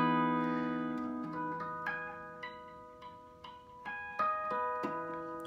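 An in-tune electric guitar with three pickups picks a string of notes and chords in an unhurried rhythm, each attack clear and ringing into the next, close and moderately quiet with no speech.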